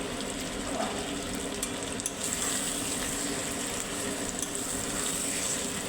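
Mutton braising in a pan with hot water added, giving a steady, close sizzle and bubbling hiss with faint stirring scrapes, continuous and even, with no talk.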